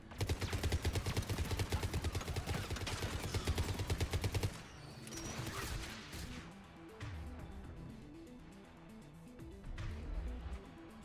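A mounted turret in Mass Effect 3 fires a rapid, loud, rhythmic burst for about four and a half seconds, followed by scattered impacts and weaker combat sounds with faint background music.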